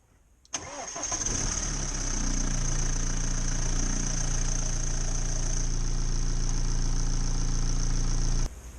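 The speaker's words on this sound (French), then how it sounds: "Vous avez pu entendre le bruit qui était normal au démarrage puisqu'il n'y avait plus d'huile nulle part." BMW diesel engine starting after an oil change, a sudden crank and catch followed by a steady, loud close-up idle with a rough clattering edge that runs until it cuts off.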